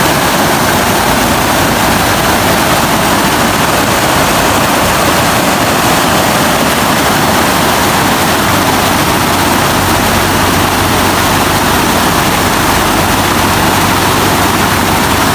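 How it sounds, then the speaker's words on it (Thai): Rushing seawater surges during a high tide of about 7 metres in Yangon, a loud, steady, broadband roar that runs unbroken throughout with no voices. "เมื่อวานไปเลยฟังเสียงน้ำ"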